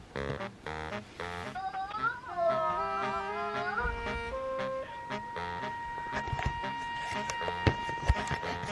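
A cat meows outdoors at an early-morning camping spot, a few short tonal cries standing out near the start, while people talk excitedly over and around it.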